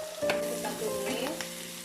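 Onion sizzles in melted margarine in a pan, stirred with a utensil, producing a close, steady frying hiss with small scraping knocks and no talking.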